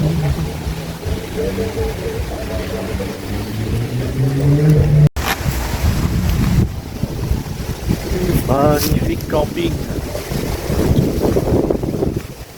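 Strong wind buffets the microphone at a campsite near the coast, roaring and gusting throughout while someone speaks over it.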